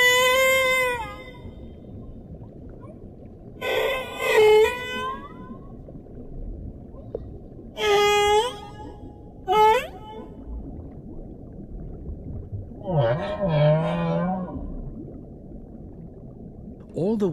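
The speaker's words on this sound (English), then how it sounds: "All the whales in each ocean sing the same song." Whale song from a nature documentary about great white sharks, heard as several separate moaning, rising and falling calls with rich harmonics, each lasting about a second, over a low steady underwater rumble.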